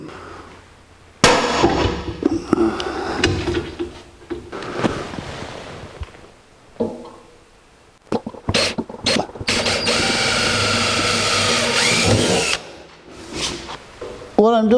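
Power drill bursts whine in several runs while drilling holes in metal for a 1964 C10 pickup gas tank install, one long sustained stretch, separated by pauses with clatter and handling noises.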